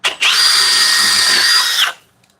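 A Milwaukee power drill whirs loudly at its highest speed setting while spinning out a screw. The whine lasts under two seconds after a brief start click, then stops abruptly.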